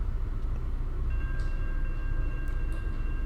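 A train in the Run 8 railroad simulator game rolls along with a steady low rumble and wheel noise, a couple of faint high tones and brief squeals rising above it, with no talking.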